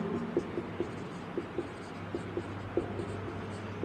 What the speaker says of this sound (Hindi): इसके लिए एक वाक्य लिखता हूँ यहाँ पे